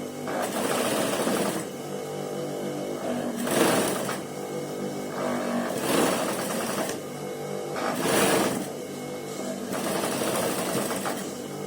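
A sewing machine stitches a kurta front in long, steady whirring runs broken by short pauses, close and continuous, with no one talking.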